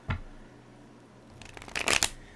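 A deck of playing cards is shuffled in a short indoor burst: a faint flick at the start, then a louder riffle rattling near the end, with no talking.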